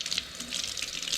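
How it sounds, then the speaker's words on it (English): Water running from a tap to soak a piece of cloth, a short steady splashing stream heard up close with no voices. "soak the piece of cloth with water."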